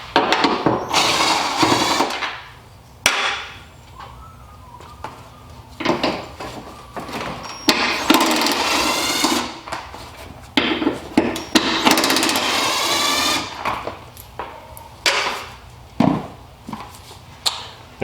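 Hand tools work loose 10 millimeter bolts holding the headlight on a 2004-2009 Cadillac SRX, giving close, irregular clicks, scrapes and knocks with brief pauses, no talking.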